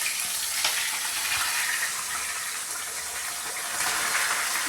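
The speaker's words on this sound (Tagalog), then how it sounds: "Natatawa si Aisa pag magluto ng isda." Fish fries in a pan, giving a constant crackling sizzle that holds at an even level throughout with a few faint clicks, and no voices over it.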